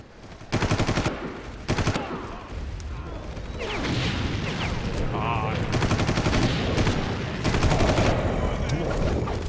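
Sniper and rifle shots crack through a Far Cry gunfight in bursts, loud sharp reports followed by a longer stretch of dense rolling gunfire and in-game clamor, with a voice heard faintly beneath.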